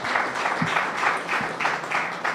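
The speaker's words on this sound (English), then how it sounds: "give them a loud, lusty round of applause" Audience at a baby-friendly hospital accreditation ceremony at SGH clapping for hospital staff, a dense, steady round of applause from a seated crowd.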